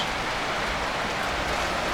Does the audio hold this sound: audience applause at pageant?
no